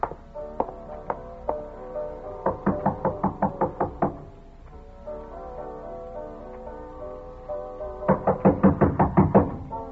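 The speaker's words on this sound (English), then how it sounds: "I walked up to her room and knocked on the door." Radio-drama door knocking: bursts of firm, close knuckle raps on a wooden door, several quick series of rapid knocks separated by pauses, loud and distinct with no talk over them.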